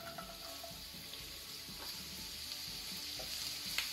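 Onions frying in plenty of hot ghee for a ghee roast, a steady close sizzle with a faint running-water-like hiss, continuous and moderately quiet, no talking.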